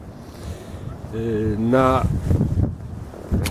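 Strong wind sweeping across the ice at a frozen fishing spot while someone ice fishes for perch. It makes a steady, rough roar and buffets the microphone beneath a man's nearby speech.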